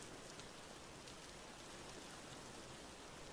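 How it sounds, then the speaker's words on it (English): Steady rain falls in the Vintage Story video game, an even, continuous hiss of drops on the ground that holds at a constant level throughout, with no voices or other sounds. "Really? It's gonna rain on me now."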